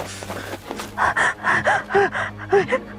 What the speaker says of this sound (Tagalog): hinihingal na ako sa pagod